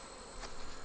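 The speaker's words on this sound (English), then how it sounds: "See the bees on the end there?" Honey bees buzz around a hive, a faint steady drone with one brief closer pass.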